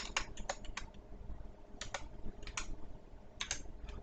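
A computer keyboard is typed on up close in short bursts of quick, light key clicks separated by brief pauses, fairly quiet and with no talk.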